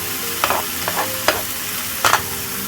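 Large mozzarella-stuffed chicken breasts fry in a pan with a continuous hiss, broken by several sharp spattering pops and crackles at uneven intervals.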